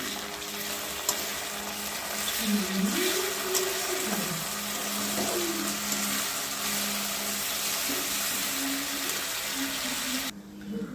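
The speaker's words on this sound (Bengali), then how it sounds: "তো আদা রসুন ভাজা ভাজা হয়ে গেছে" Ginger and garlic frying with onions in a pan make a steady, close, hissing sizzle that holds unbroken throughout, with a faint wavering low tone underneath.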